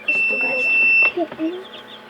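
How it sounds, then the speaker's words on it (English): A long, steady electronic beep tone sounds, likely from an egg incubator, then stops, followed by faint chirps and a person speaking. "Stop beeping."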